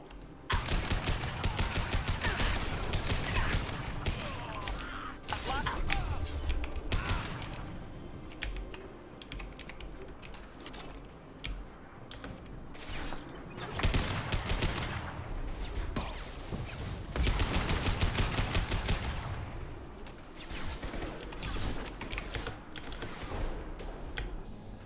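Rapid gunfire in the video game Mass Effect 2, with dense bursts of automatic shots and sharp clattering impacts that rise and fall across a long, busy combat stretch.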